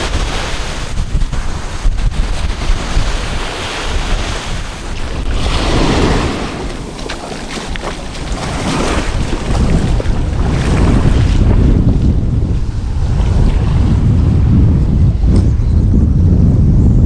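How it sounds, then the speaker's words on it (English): Strong wind buffets the microphone in heavy, continuous gusts near a reef while fishing, mixed with the wash of waves and water close by; no voices. "Wind is quite strong."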